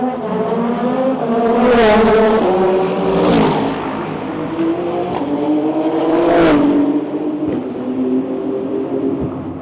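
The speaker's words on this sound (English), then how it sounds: "of race cars around a city street circuit" Race cars scream past on a Detroit city street circuit, loud and close, with engine notes rising and falling as several cars rush by in turn, one pass after another, and no talking.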